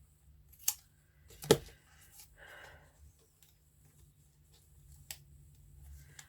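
A few sharp snips of scissors cutting paper, separated by brief rustling in a quiet room, no talking.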